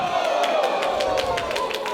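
A wrestling crowd in Tunbridge cheers and roars as a steady, dense wash of noise throughout, with scattered claps and shouts rising over a continuous commentator-style voice.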